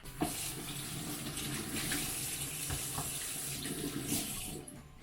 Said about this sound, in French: Première chose à faire avant de cuisiner, on se lave les mains.